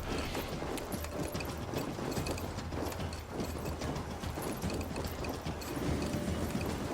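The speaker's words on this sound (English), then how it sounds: "I'm going to call my horse," Horse hooves galloping in Assassin's Creed Valhalla, a steady rapid clatter running through the whole stretch, mixed with busy game ambience and mechanical clicks, fairly loud and continuous with no talk.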